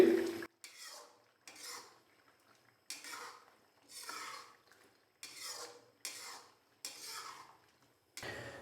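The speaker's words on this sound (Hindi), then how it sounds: "इसके अंदर थोड़ा सा गरम मसाला डालूंगा, तकरीबन हाफ टी स्पून के करीब। अच्छे से मिक्स करेंगे।" Garam masala being stirred into mutton karahi in a pan gives about eight rhythmic scraping strokes, each close and distinct, separated by brief quiet gaps, with no talk.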